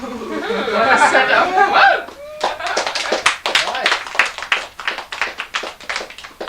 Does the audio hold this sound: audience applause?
yes